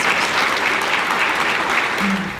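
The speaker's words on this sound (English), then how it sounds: "Please give a round of applause to all of our sponsors." Steady audience applause at a Texas City chamber business forecast event, honoring sponsors; dense continuous clapping throughout, fairly loud and close, with no speech over it.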